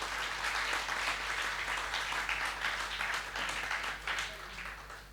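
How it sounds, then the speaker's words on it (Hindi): Village crowd at an outdoor patriotic gathering applauds a young man named Naveen, a dense, sustained wash of many hands clapping at a distance, fairly faint over a low steady hum. "तालियां बजाइए नवीन जय हिंद के लिए।"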